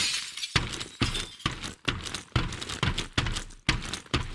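Window glass smashing in the PC game Firefighting Simulator - The Squad, a series of about nine sharp, loud shatter bursts at roughly half-second intervals, each followed by tinkling debris, with no talk.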